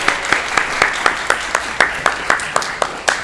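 An audience at a 2021 school stage production of Mozart's The Magic Flute claps for the actors, with sharp, evenly spaced claps in a steady rhythm over a soft background hum and no talking.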